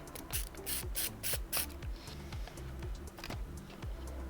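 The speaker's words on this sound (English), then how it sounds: "Let's pull the hard drive." A hard drive is being removed from an MSI Raider laptop. Quiet, close mechanical ratcheting clicks repeat in a steady rhythm, with light rubbing and a few scraping bursts.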